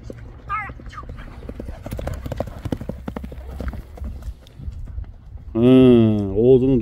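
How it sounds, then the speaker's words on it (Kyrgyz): The hooves of a ridden horse clip-clop in a quick, steady rhythm close by. A loud whinny breaks out near the end. "Атты улакка чапсаңар"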